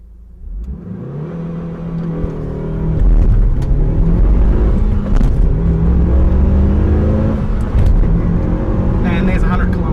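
A Mitsubishi Lancer Evolution 9 launches from a 5,000 RPM launch limiter and accelerates hard. The engine note climbs in rising pitch from a held rev, loud and close from inside the car, with someone talking over it.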